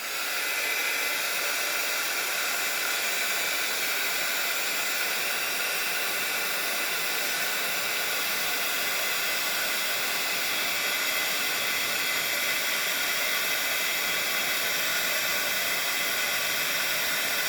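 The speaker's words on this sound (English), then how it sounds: "So you bring in your heating tool." A steady, loud blowing hiss from an embossing heat tool melting embossing powder runs continuously without pause, with no talking.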